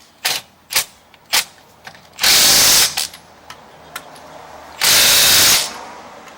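An impact gun fitted with a long extension and a specialty socket spins car wheel lug nuts, starting with several sharp, short ratcheting bursts and then two loud, sustained hammering runs of about a second each, close and harsh.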